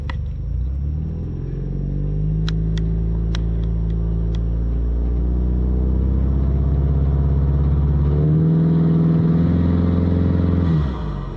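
A Ford Mustang EcoBoost engine idles with a deep, steady rumble, then revs up sharply toward 3,000 RPM for a launch near the end before cutting off.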